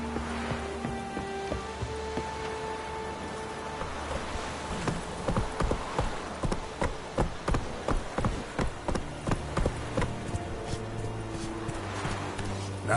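Hoofbeats of Roach, the horse in The Witcher 3, gallop in a quick regular rhythm of sharp thuds over a bed of music and ambient texture, growing clearer midway then easing off.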